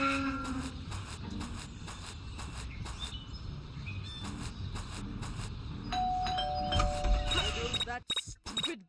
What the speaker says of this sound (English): That stupid bell again.